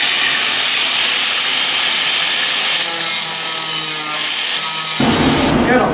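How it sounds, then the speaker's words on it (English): An angle grinder grinds down spot welds on a 1995 Vert with side scoops being fitted, a loud, continuous abrasive hiss that runs for several seconds and shifts pitch as the disc bears on the metal. "So let's get the grinder."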